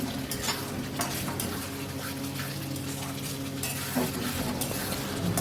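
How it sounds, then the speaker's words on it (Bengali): Potatoes being fried in spice paste for a fish kalia with folui fish, giving a continuous close sizzle with frequent scraping stirs and light clinks of utensil on pan. "আলু দিয়ে আবারও কষিয়ে নেব মশলাটা"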